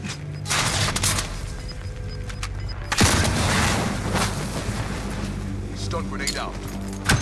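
Stun grenade bangs and bursts of gunfire in Call of Duty: Modern Warfare, a sharp blast near the midpoint within dense, continuous combat noise, with players talking over the action.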